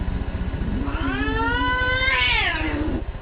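A cat lets out one long, drawn-out meow that rises, swells and falls away, heard over a steady low rumble in the background.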